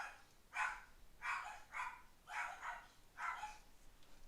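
Two dogs bark in short, sharp bursts, about five or six barks spaced roughly half a second to a second apart, moderately close in an indoor room with no talking.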